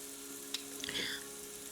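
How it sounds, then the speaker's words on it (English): Onions sear in a pan with leftover oil from cooking steak, giving a faint, steady low sizzle with a brief scrape or clink of stirring partway through. "right now I'm just searing my onions"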